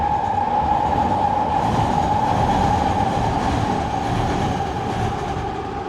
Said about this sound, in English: Here goes that train again.